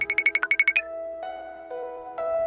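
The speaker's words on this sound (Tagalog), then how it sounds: "Can't answer the phone." A phone ringtone plays nearby and alone, starting with a rapid series of about nine bright chirping pulses, then moving into sustained melodic tones.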